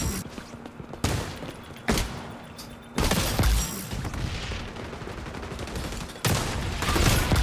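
Gunfire from the online shooter game XDefiant comes in loud bursts of rapid automatic shots and separate booms, dense and close over several seconds with no talk.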